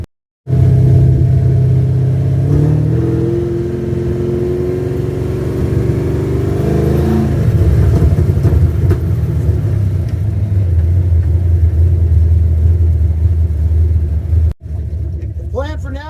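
An old project car that had been parked since 1999 drives down a neighborhood road on its first outing in 27 years. Its engine makes a loud, continuous low rumble that rises under throttle and then settles into a steady cruise.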